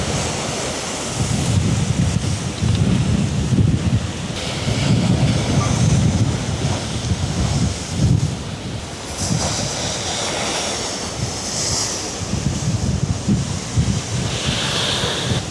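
Ocean waves roll onto the coastline of Izena Island ahead of a typhoon, a steady, loud roar of surf with repeated swells, buffeted by heavy wind on the microphone.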